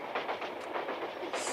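A train rolls past with a continuous rumbling roar and a faint rhythmic clatter of wheels, steady and fairly close, with no voices over it.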